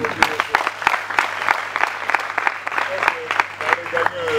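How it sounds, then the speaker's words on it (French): Audience applause at a ceremony installing a student coordination team, steady patter of many hands clapping for several seconds, mixed with voices and a low background hum. "On peut les applaudir."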